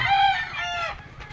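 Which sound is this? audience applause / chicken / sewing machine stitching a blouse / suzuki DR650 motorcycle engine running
chicken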